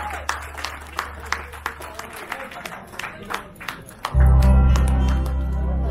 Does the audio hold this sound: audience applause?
yes